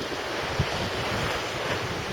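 Strong wind of around 40 miles an hour buffets the microphone at a new sea fishing mark on the shore, a dense, steady roar with waves surging underneath and no voices.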